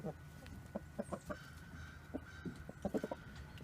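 A rooster clucking in short, repeated bursts as he rounds up his flock in the morning, moderately close, with a faint voice in the background.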